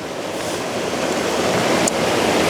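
Continuous broadband rush of a river flowing past mossy boulders along the bank, steady and close, with no talking over it.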